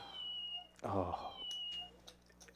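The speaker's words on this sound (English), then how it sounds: "meows from the cat that you'll hear at Champions Club" A cat meows once, a short nearby cry in a poker club, over a quiet room hum with faint background voices.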